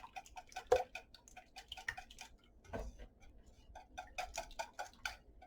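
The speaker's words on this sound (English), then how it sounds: "So let's get this whisk together" Eggs beaten by hand with a whisk, a rapid run of light, irregular metallic ticks and taps against the bowl with a brief louder knock midway, close and alone without talk.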